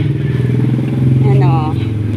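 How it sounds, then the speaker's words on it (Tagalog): Several motorcycles pass along a dark road, their engines droning and revving loudly nearby. "Ang daming motor."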